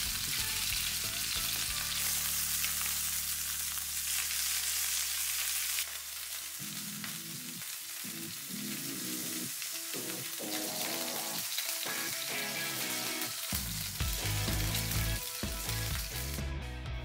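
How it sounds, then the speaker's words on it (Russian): Chicken sizzles and crackles in hot oil in a pan, loud and continuous, with occasional scraping and clinks of a utensil. "Жарим так с одной стороны до золотистой корочки, а уже далее переворачиваем."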